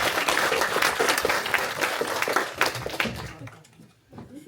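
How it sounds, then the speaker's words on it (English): Lively audience applause welcomes a guest speaker at a live podcast event in Runcorn, dense clapping with some cheering that fades out over a few seconds before a brief pause. "can you please have a big round of applause, a big Runcorn welcome for Alex Partridge."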